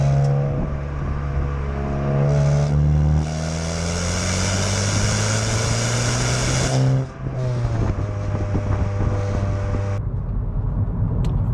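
A Hyundai i20N with a six-speed manual, driven in sport mode, gives a close, throaty engine note that climbs steadily in pitch, drops briefly at a gear change, then pulls again and settles into a steady drone.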